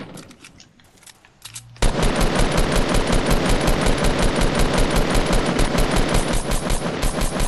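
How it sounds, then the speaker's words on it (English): Gunfire in a Fortnite squad match: after a few scattered shots, a loud sustained burst of rapid automatic fire erupts and hammers on steadily for over five seconds, close and dominating. "People shooting. They're really close."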